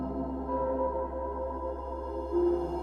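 A Eurorack modular synth plays a sustained, steady tone built from layered harmonics with a low hum beneath, holding at an even level with a slight swell near the end; no distinct bloops or bleeps stand out.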